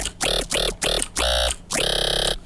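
A dry dubstep 'wew' growl bass with no effects, five synthetic vowel-like growls in a choppy rhythm, the last two held longer, loud and alone.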